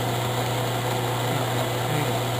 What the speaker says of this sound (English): I can just kind of relax and run the drill bit